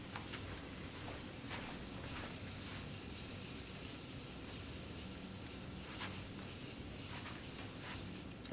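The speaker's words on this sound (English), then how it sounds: "Going to take a second to erase." Eraser rubbing steadily across a board between fraction problems, a continuous soft scrubbing with faint repeated strokes throughout, fairly quiet and without talk.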